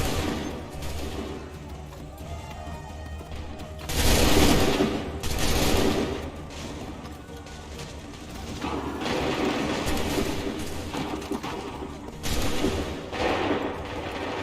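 Musket volleys in the Assassin's Creed III video game, loud crackling bursts of massed gunfire arriving in waves several seconds apart over continuous battle noise.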